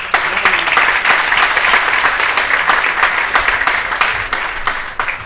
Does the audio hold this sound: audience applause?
yes